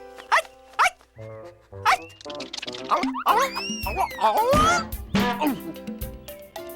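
A small dog yaps in short, sharp barks, first spaced apart and then in a quicker excited run, close by with some whining.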